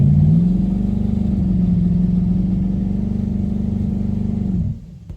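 A twin-turbo big-block engine in a Ford Fairmont on a test pull, held at a loud, steady, droning high rev for several seconds before cutting off abruptly.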